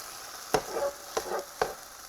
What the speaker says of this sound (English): let's head over to the grill and get this Ortega chili omelet cooking